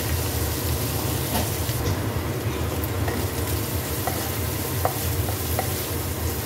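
Carrots and beans stir-fry in a hot pan for egg fried rice, giving a constant close sizzle with scattered scraping and stirring ticks.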